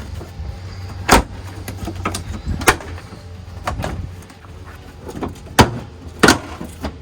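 A rear bumper being pried off a BMW E90, with several sharp plastic snaps and clunks spaced apart over scraping and rustling handling noise, close and fairly loud.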